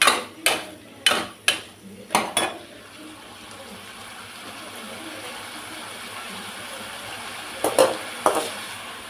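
Chicken frying in a pan for balipalayam chicken, stirred with a spoon that knocks sharply against the pan in a quick run of hits, then a soft sizzle, then two more knocks near the end.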